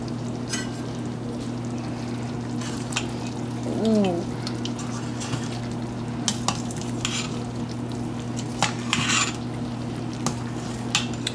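Chili is stirred in an Instant Pot, and a spoon scrapes and clinks against the pot in scattered close strokes over a steady appliance hum, with a brief voice partway through.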